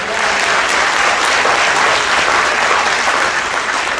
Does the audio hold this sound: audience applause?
yes